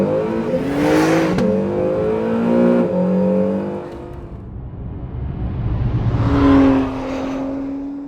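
An Acura car with Super Handling All-Wheel Drive launching hard, its engine revving up in a rising, loud whine, easing off, then surging again as it pulls away.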